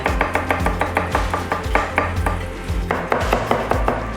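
A knife mincing garlic on a cutting board, fast rhythmic chopping strikes close up, a steady run of sharp taps with brief pauses as the rhythm resets.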